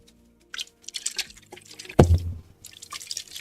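Water splashes or drips once, sharply and close, with a brief wet tail, amid quiet rustling and faint background sounds.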